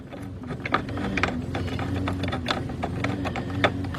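A ratchet clicks in quick, uneven bursts as it tightens a bolt on a 2008-2011 Ford Focus seat during an AC evaporator core replacement, close up with no talking.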